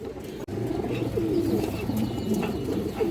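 Pigeons, including a Bagha hen, coo continuously in a dense, close chorus of low rolling calls after a brief knock at the start.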